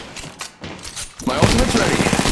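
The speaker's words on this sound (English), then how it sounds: "Opening fire." Gunfire erupts in the mobile battle-royale game Apex Legends Mobile, scattered shots followed by a dense burst of rapid automatic fire, loud and close, with some voice in the mix.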